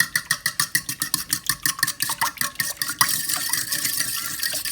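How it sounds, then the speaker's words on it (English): Fork whisking a large egg in a bowl for Irish soda bread, a fast run of evenly spaced clicking strokes that blur into a steadier scraping churn partway through, close and clear. "And you're going to whisk that together."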